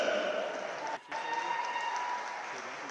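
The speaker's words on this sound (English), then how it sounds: "let's give one more big round of applause to the 2026 Nebraska Swimming and Diving Seniors" Applause from the crowd at a Nebraska swimming and diving meet honoring the seniors, a steady wash of distant clapping in a large natatorium with a brief dip partway through.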